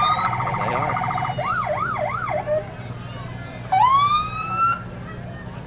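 A police car siren at a Memorial Day parade blasts a wailing rising-and-falling tone, then a sharp rising whoop, loud and close, with a brief voice nearby.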